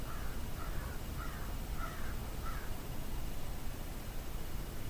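A crow caws five times in a steady series outside an open window, faint and somewhat distant over a constant broadband background hiss.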